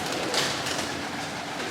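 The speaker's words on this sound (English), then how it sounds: "these birds are going crazy." Flock of pigeons inside an abandoned hotel ballroom, a dense, continuous wash of wing flapping and fluttering that fills the space, close and loud throughout.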